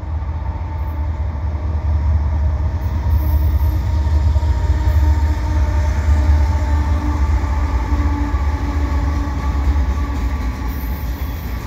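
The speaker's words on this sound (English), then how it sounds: "You see a CP train coming in." An eastbound CP freight train rumbles past at Marshall Avenue steadily for the whole stretch, a heavy low roar with faint rhythmic rail clatter, fairly close and continuous.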